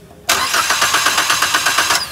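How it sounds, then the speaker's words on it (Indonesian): A stalled Daihatsu Sigra or Toyota Calya cranks on its starter for about two seconds, a loud, steady, close-up churning with an even rhythmic pulse and no catch. "kemudian di starter. Ya, starter sambil dilihat"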